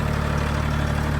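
A Mahindra 1635 tractor fitted with a loader third-function kit runs uphill over wet green fields, its engine a loud, steady low drone with a throbbing rumble throughout the brief stretch.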